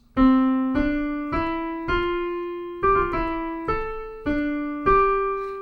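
A keyboard plays a Bach fugue subject, a single-line melody of about nine distinct notes, each struck crisply and left to ring and fade, moving at a moderate, uneven pace.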